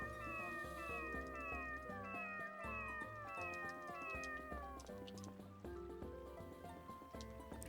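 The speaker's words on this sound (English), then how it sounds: "Plenty of cats in this game" Cats meow and caterwaul repeatedly in the video game Tales of the Abyss, layered over steady game background music.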